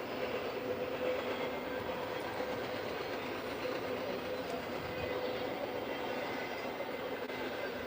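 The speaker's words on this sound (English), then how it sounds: "Well, the first train of the morning is going by." The first morning train rolls by in Hicksville, its wheels rumbling and clattering steadily along the rails at moderate distance for several seconds.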